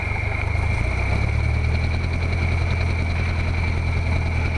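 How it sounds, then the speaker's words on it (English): A light aircraft engine idling at roughly 600 to 800 RPM during a flight lesson, a steady, loud, close low drone with constant vibration and a persistent whine, unbroken for several seconds without talk. "Now we bring our throttle slowly to idle, and we want to see if it idles about 600 to 800 RPM"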